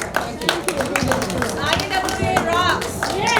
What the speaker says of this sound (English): So it's a big round of applause for all of you.